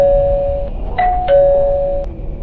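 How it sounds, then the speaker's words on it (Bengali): A doorbell rings in a dramatized scene, sounding three clear electronic tones in quick succession, close and loud against a quiet background. "এরপরেই দরজার কলিং বেলটা সশব্দে বেজে ওঠে।"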